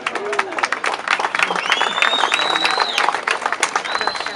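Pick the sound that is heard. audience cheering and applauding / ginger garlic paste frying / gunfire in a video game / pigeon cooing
audience cheering and applauding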